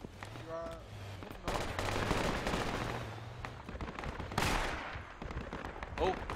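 Gunfire in the military shooter game Project Reality, a steady dense run of bursts and shots that rise and fall across the clip, with voices talking over it.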